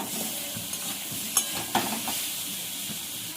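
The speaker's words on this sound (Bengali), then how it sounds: "আমি আলাদাভাবে ভাজলাম না, একসঙ্গেই ভাজছি" Mixed vegetables sizzle together in hot oil in a pan, a steady close hiss broken by a few sharp stirring clicks.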